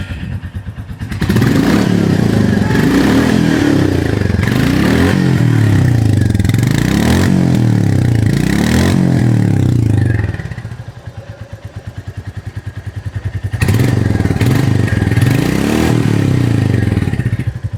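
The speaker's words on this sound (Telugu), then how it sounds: "ఒకసారి ఇంజన్ స్టార్ట్ చేసి ఎగ్జాస్ట్ నోట్ వినిపించు." A 2025 Royal Enfield Goan Classic 350 with its stock BS6 silencer is started and revved, giving a loud, close thumping exhaust note that swells and dips in repeated throttle blips, eases to idle midway, then revs again.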